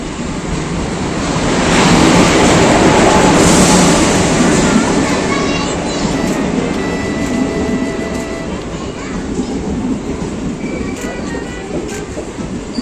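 A train running on a train journey, a loud, steady rumbling roar with rushing noise that swells early on and then holds, with faint tonal squeals, under some background voices.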